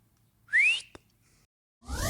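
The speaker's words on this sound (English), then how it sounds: "Blow the full-time whistle, please." A referee's full-time whistle at a World Cup football match sounds once in a single clear rising blast, followed by a brief sharp click and then a burst of noisy sound.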